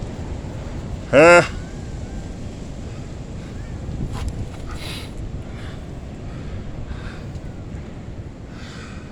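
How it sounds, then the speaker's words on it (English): Wind gusts through the trees of Mountain of Hope Faith Church Cemetery, an old country graveyard, as a steady, rough rush that persists throughout, with a short bird call near the start. "Just that wind, guys."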